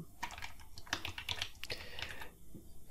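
Quick, light clicks of fingers typing on a computer keyboard while filling in an HTML form field, arriving in short uneven bursts with a brief pause near the end.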